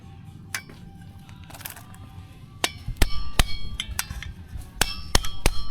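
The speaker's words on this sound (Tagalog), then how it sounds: "pinupukpok ko lang using rubber mallet" A rubber mallet pounds a clutch lining clip into place, sharp single knocks at irregular intervals that grow more frequent, close over a low rumbling workshop background.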